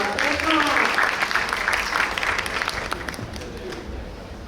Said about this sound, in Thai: ขอเสียงปรบมือให้กับโชว์นะครับขอเสียงปรบมือด้วยครับ